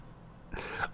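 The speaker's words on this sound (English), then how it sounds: "I'm going to continue coughing up a storm because I'm not feeling well." A person who is feeling unwell gives a single short, quiet cough, a brief rough burst after a moment of near silence.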